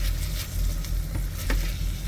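Food sizzles in an Instant Pot and is stirred with a few scraping strokes, steady and close, with no talk.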